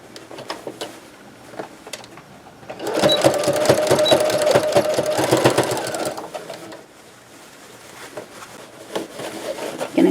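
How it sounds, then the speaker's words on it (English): A sewing machine stitches the seams of a lined tote bag, a steady rapid mechanical whir running for about three seconds in the middle, with quieter handling sounds before and after and no talk. "I'm just going to put a stitch right along where those two seams come together"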